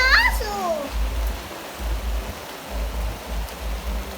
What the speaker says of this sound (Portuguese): Começou a chover bastante,